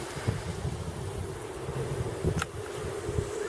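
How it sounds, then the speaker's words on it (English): Strong wind during a dust storm in Australia, a steady rushing buffet across the microphone with low rumbling gusts and a brief sharp rattle partway through. "Listen to the wind."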